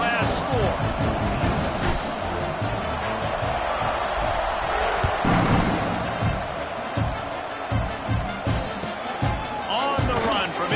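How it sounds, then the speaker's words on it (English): A football stadium crowd at a college game hums loudly in a dense, continuous roar. An announcer talks over it the whole time. "this crowd is buzzing after that last score"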